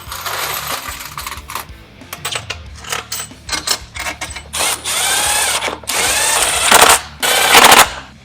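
Power tool driving bolts into a 2024 Yamaha YFZ450 ATV during a build, loud repeated bursts of whirring and clattering with short pauses between them, close by and with no talk.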